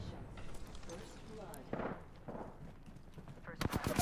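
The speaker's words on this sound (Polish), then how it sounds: "Strzelają na mnie." Gunfire in Apex Legends comes in scattered bursts of shots aimed at the player, with a louder crackling volley near the end, under speech and game noise.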